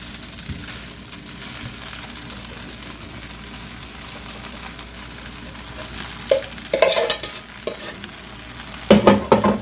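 Shrimp, mixed vegetables and onions frying for shrimp fried rice, with steady close sizzling and spatula stirring clatter throughout, plus louder scraping bursts near the end.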